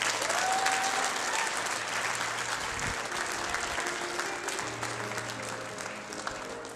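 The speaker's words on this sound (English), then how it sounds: "Clap your hands if you believe that tonight." Youth audience clapping hands together throughout, a dense, steady applause from a crowd filling the room at moderate loudness, with no talk over it.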